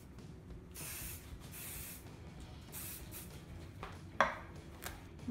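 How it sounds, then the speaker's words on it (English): Hairspray hisses from an aerosol can onto a finished Dutch braid in several short, soft bursts separated by pauses, with a light tap or clink near the end. "I'll use a little hairspray."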